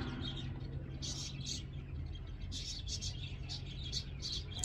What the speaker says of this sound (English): The birds are so talkative today.